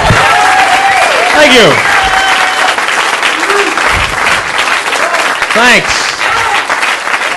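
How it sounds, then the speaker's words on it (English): A comedy club audience applauds loudly as a comedian takes the stage, dense steady clapping with whoops, and he briefly speaks over the tail of it. "Nice round of applause"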